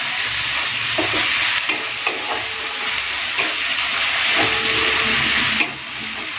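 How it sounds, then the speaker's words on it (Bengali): Ginger-garlic paste fries with onion and tomato in hot oil for a bhetki fish kalia, producing a loud, continuous hiss and sizzle punctuated by occasional knocks of stirring. "দিয়ে দেবো আদা রসুন বাটাটাকে পেঁয়াজ আর টমেটোর সাথে একটুখানি ভেজে নিই যাতে আদা রসুনের কাঁচা গন্ধটা চলে যায়"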